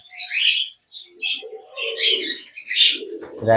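Pet pigeons or doves chirp and coo around feeding time, when boiled wheat is given: a close run of bright tweets and soft low coos, with a brief flutter near the end.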